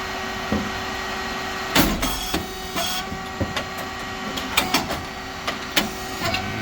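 An SYP9002 rice cake machine runs with a steady mechanical hum, punctuated by irregular knocks and clunks of its pressing action. No one speaks.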